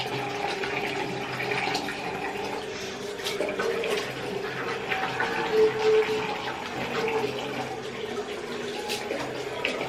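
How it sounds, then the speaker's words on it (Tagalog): Tap water runs steadily into a bathroom sink as someone washes their face in a heated bathroom, a continuous close splashing flow with small shifts in intensity throughout. "Maghilamas lang ako."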